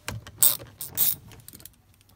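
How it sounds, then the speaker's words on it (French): A ratchet turns two size-5 Allen screws on a Porsche 911 door panel: a couple of quick, close clicking bursts, then a few fainter clicks, with no talking. "avec un cliquet, on y va"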